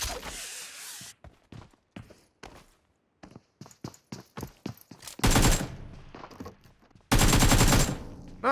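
Video-game gunfire in a battle-royale match: bursts of automatic fire and single shots crack out in irregular clusters, with two long, loud sustained volleys near the end.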